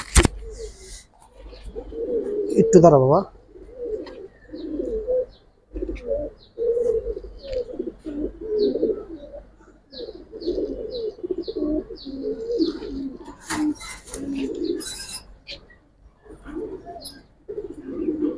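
Pigeons coo repeatedly in low, throaty bursts at a busy pigeon market where army and Giribaz birds are sold, with occasional chirps and brief spoken words from a person nearby.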